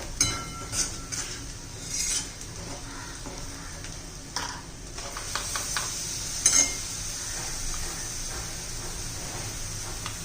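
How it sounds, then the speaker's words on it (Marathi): Ground tomato added to a hot pan for a capsicum dish, a continuous close sizzle with repeated scraping stirs and occasional clinks of a spoon against the pan. "आता त्यामध्ये आपण टोमॅटो घालणार आहोत"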